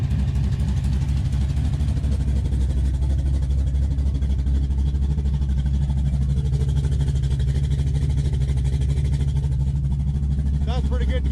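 A Dodge D100 pickup with a big block engine and tunnel ram intake idles loud and close, a steady deep low rumble throughout with a slight blip near the end.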